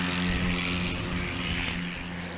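A STOL airplane's propeller engine drones steadily overhead at a short takeoff and landing contest in Brainerd, a continuous buzzing hum that fades slightly toward the end, with no talk.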